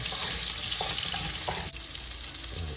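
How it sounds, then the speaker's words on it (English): Peppers getting a quick fry in hot oil with salt and crushed ground pepper, a loud steady sizzle with faint stirring clinks, close and continuous with no speech. "Just a quick fry."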